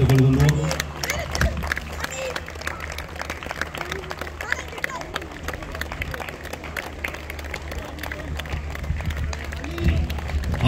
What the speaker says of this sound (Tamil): அனைவரும் கரகோஷம் எழுப்பி அவர்களை உற்சாகப்படுத்துமாறு கேட்டுக்கொள்கின்றோம்